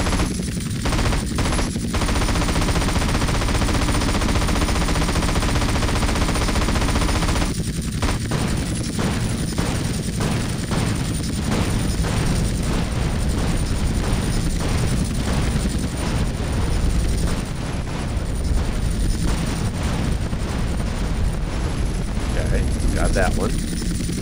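Gunfire from GTA San Andreas during a Flight School mission pours out in dense, continuous bursts alongside a steady aircraft engine drone, loud and sustained, with brief pauses and a player's voice mixed in.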